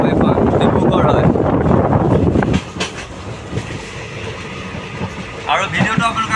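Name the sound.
riding a moving passenger train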